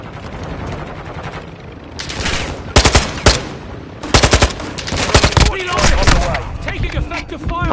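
Bursts of automatic gunfire from the Modern Warfare video game crack out in several short, sharp volleys, loud and close over a lower background rumble.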